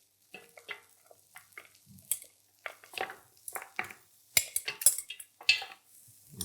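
Pieces of beef brisket and brisket bones going into a cold stock pot, with scattered clinks, knocks and rustles of metal, bone and meat, some sharp and close, others faint, and no talking.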